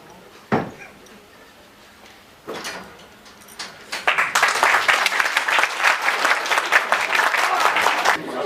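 Theatre audience applauding during a staged courtroom drama, the clapping breaking out sparsely then swelling into sustained, dense applause from a full house that continues to the end.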